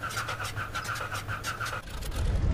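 A single-engine propeller aircraft in Microsoft Flight cranks on its starter, a rapid rhythmic whirring pulse that stops after about two seconds as the engine catches with a low rumble.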